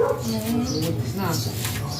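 A small Shih Tzu dog whimpers and yips in high, wavering cries close by, mixed with people talking.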